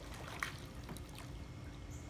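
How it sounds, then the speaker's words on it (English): Water trickles into a sit-in kayak as it leans over and takes on water: a faint, steady dribble with small splashes. "you lean over, you start taking on water"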